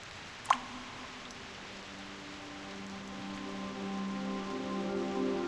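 Soft rain falling in the game Reverse: 1999, a faint steady patter that thickens gradually, with a single bright drip or click near the start and gentle sustained tones underneath.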